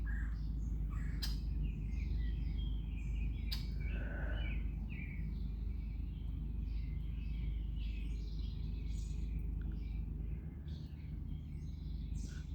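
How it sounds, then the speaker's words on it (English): A red-winged blackbird calls in open countryside in the Flint Hills, several short chirps and trills scattered over a constant low rumble of background noise. "red-winged blackbird. Not a grackle, not a croak."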